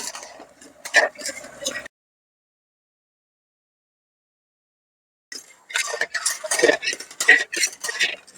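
Gentle scraping and clinking of a utensil slowly stirring chhena (fresh cheese curds) in a pan for kachagolla sweets, in two bursts separated by a few seconds of silence.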